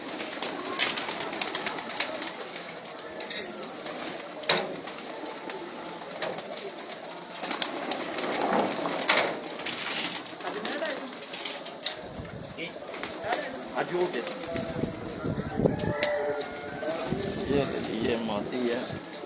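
Pigeons cooing softly in a loft amid rustling and wing movement, with a voice talking over them throughout at moderate distance.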